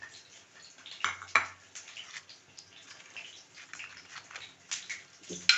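Hot fried eggplant slices dropped into a thin yogurt dish for boraniya give a few close clinks and soft splashy clatters against a bowl, with quieter kitchen rustling in between.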